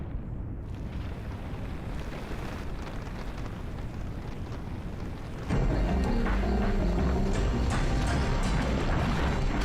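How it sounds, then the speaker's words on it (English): Explosions in the video game The Legend of Dragoon, a continuous rumbling blast texture that jumps sharply louder midway, with a low booming roar and crackling bursts layered beneath. "follow the clouds of smoke and the explosions and all that stuff"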